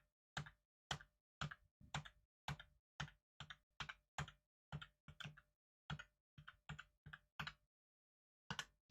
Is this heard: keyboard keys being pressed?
yes